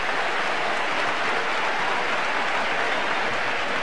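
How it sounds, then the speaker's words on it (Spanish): San Mamés stadium crowd applauding Athletic Bilbao's Julen Guerrero during a UEFA Cup match against Parma, a steady, dense wash of clapping spread evenly across the stands with no pauses. "Aplaude San Mamés la lucha y el esfuerzo de Julen Guerrero"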